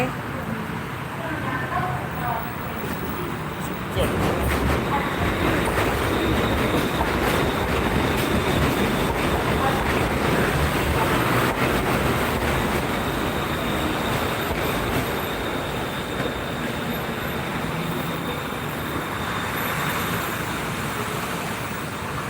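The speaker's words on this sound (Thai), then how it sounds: "มาแล้วรถไฟฟ้ามาแล้ว" An elevated skytrain rumbles past at steady volume with a continuous rolling roar and faint wheel squeal, with background city noise of Bangkok beneath it, near Saphan Taksin station.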